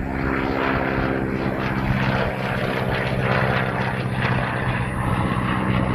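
A propeller-driven aerobatic plane in a video game drones steadily with a loud, continuous engine hum that holds throughout, close and unbroken, with no talk over it.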